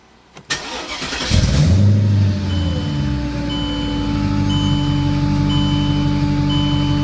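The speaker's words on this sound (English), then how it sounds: "I'm going to fire it back up because I do want to see if it" A Mercedes CLK55 AMG with the supercharged M113K V8 cranks and fires after a brief pause, catching with a loud roar that settles into a steady, rumbling idle, close up and with no talk.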